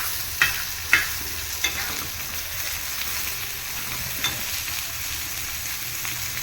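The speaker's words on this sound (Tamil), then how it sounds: "தவா மீன் போட்டோம்னா எப்பயுமே கொஞ்சம் பாதி மீன் வந்த பின்னாடி சிம்மில் தான் வச்சுக்கணும், இல்லைன்னா தீஞ்சிரும்" Fish coated in masala frying on a flat tawa griddle, a steady soft sizzle throughout with a few sharp clinks and pops of a spatula turning pieces early on, no voices.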